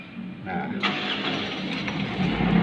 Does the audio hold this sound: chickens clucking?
no